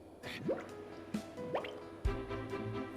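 A Pokémon splashing into a pool in the Detective Pikachu video game gives a few separate watery plops and drips, then a heavier splash near the end, all close and moderately loud, with no voices.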